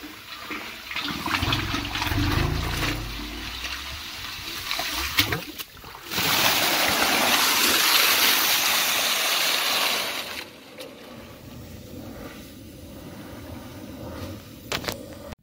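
Muddy sediment water from a flushed well gushes out of a garden hose after being pushed with air, a loud rushing surge of water that swells midway and then tapers to a lower, steadier flow.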